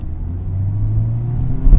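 A car drives past with a low, steady engine rumble that stays muffled and close, swelling slightly near the end, with no one speaking.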